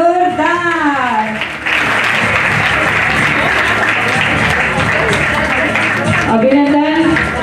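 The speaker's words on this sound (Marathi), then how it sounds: "टाळ्या जोरदार" Loud, sustained applause from an audience at a women's home-minister contest event where a Paithani saree is being awarded, steady clapping filling the whole stretch with a voice speaking at the start and end over it.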